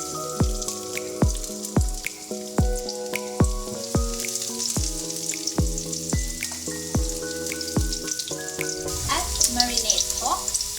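Garlic frying in cooking oil for Thai pork fried rice, a continuous soft sizzle running under plucked background music and swelling into a louder, crackling burst near the end.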